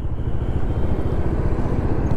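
Steady low engine rumble of a motorbike on a long-distance road trip in India, continuous and fairly loud throughout with wind-like noise and no clear talk.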